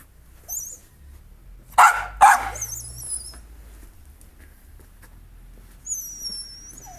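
Two sharp, close dog barks break a quiet room, surrounded by faint squeaky whines and whimpers.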